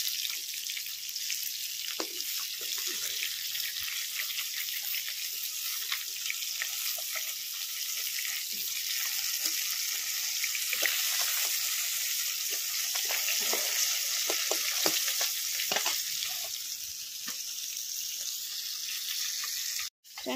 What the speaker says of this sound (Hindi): ये मो माछ भाजुची